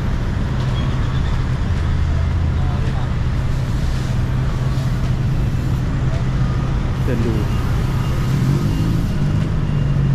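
Dense rush-hour traffic on Sukhumvit Road in Bangkok, a constant loud roar of engines and idling vehicles heard from the pavement, with occasional faint voices nearby.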